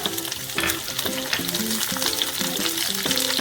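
Garlic, onion and capsicum fry in a pan as they are stirred, a loud, close crackling sizzle with brisk scraping strokes and no voices.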